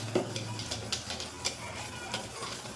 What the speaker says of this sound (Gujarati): તો મિશ્રણ છે તે એકદમ સ્મૂથ ન થઈ જાય ત્યાં સુધી સતત આપણે તેને આ રીતે મિક્સ કરતા રહીશું